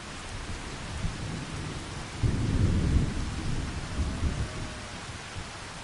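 Rain falls steadily in Farming Simulator 25 while a low rumble of thunder rolls through the middle, swelling and then fading under the constant patter, with nobody talking.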